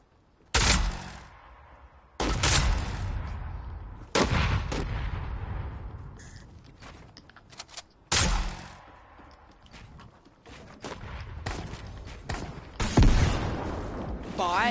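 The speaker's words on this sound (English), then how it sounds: "I mean a rocket launcher." Rocket launcher shots in a multiplayer shooter game: five heavy, loud blasts a few seconds apart, each trailing into a long rumbling decay, with smaller gunfire and clatter between them.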